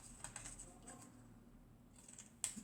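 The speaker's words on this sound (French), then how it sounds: "On va couper le bord de chaque triangle" Scissors cut along the edges of paper triangles for an explosion box craft, a few quiet, crisp snips close by, with a sharper final snip.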